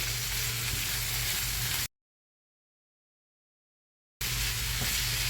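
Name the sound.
minced meat frying with onion and carrot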